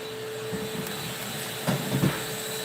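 A vacuum cleaner runs in another room as a steady, muffled drone, distant and continuous, with a couple of brief louder bumps near the end and no talking.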